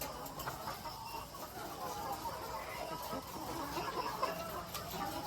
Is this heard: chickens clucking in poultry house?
yes